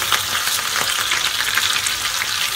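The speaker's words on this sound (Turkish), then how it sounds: "Eriyen yağımın üzerine yıkayıp ayıkladığım pirincimi ekliyorum." Washed rice sizzles in melted oil in a pot for Turkish chickpea and chicken pilaf, a loud, dense, continuous frying hiss with faint stirring pulses throughout.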